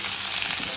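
Chicken pieces sautéing in a hot pan, giving a steady, dense close-up sizzle and crackle that holds evenly through the short moment.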